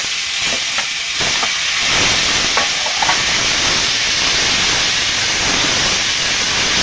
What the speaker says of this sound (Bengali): তেলটা গরম হয়ে গেছে, আমি পেঁয়াজ রসুন দিয়ে দেবো।